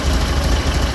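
A car engine fed by a single Weber IDF carburettor runs with a brief, steady low rumble, loud and close.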